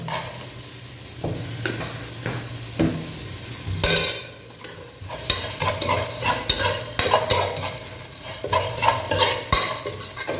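Biryani masala fries in oil for a chicken biryani, with steady sizzling and frequent scraping stirs of a spoon against the pan, close and fairly loud throughout, with no talk.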